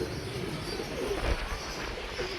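Pigeons perched on a rooftop coo softly in the background after a storm, under a steady wash of wind or ambient noise with no talking.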